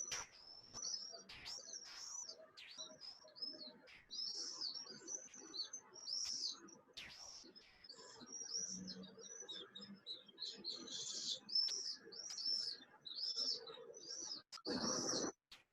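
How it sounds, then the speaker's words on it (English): Common swifts of the Pekinensis subspecies over Tiananmen Square in Beijing, giving repeated shrill, high screaming calls in quick bursts throughout, some near and some distant, over a soft low background hum. "in Beijing, we have the Pekinensis subspecies of common swift"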